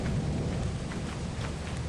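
Stormy weather in the video game Lethal Company, a dense continuous rumble of thunder and rain noise at moderate level, with no voices.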